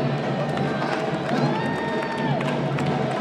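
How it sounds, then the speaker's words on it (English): A crowd at a daiquiri sprint challenge cheers and claps, a dense, lively roar of voices and applause filling the room without pause. "Give him a round of applause, everybody."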